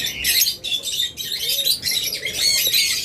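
A flock of caged lovebirds chirps constantly, with dense, overlapping shrill tweets and squawks that stay close and loud throughout, without any speech.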